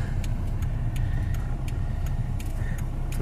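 Steady low road rumble from inside a car driving toward Chop in Zakarpattia, Ukraine, with faint regular ticking, like a turn signal, over the continuous drone.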